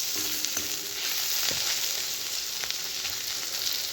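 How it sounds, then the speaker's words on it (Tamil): Grated coconut sautéing in oil in a pan over a low flame for a greens (keerai) chutney, giving a steady, close sizzle with soft crackles throughout and no talking. "இப்போ தேங்காயும் நல்லா எண்ணெயில் வதங்கிருச்சு"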